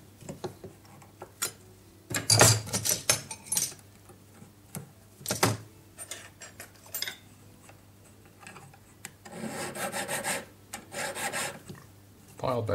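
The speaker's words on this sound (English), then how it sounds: "File both ends." A metal file rasps back and forth across the cut ends of a ring band, in short bursts of close, scratchy strokes with brief pauses between them and no talk.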